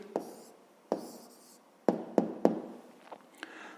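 An answer to a fifth-grade maths exercise is written down by hand in a quick series of close pen taps and short scratchy strokes, irregularly spaced and fairly quiet.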